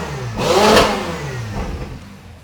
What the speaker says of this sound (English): make it sound glorious like an F1 car, such as this Klein Inconel exhaust